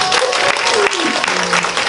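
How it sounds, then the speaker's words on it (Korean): Audience applause at a church lecture after a bow, brief and busy, with a voice speaking over the clapping throughout. "제가 박수를 받으려고 꼭 한번 이렇게 인사를 합니다"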